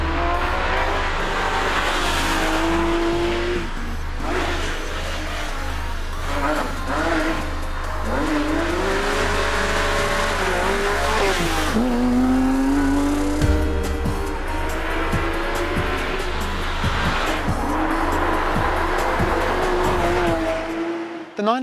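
A Porsche 911 GT3 RS sports car engine revs hard and shifts through gears, loud and close throughout, with rising and falling pitch as the car accelerates.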